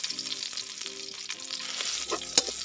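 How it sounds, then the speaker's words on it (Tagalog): Garlic sautés in hot oil for pork and chicken adobo at a Filipino street food stall, a steady close sizzle and crackle with soft stirring and one sharp clink near the end. "Ito mga bay, gisa tayo ng bawang."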